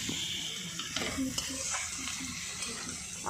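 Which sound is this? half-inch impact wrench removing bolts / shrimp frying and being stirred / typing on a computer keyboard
shrimp frying and being stirred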